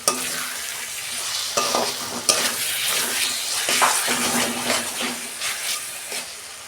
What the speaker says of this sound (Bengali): টমেটোটা না গলা পর্যন্ত আমি কষাবো।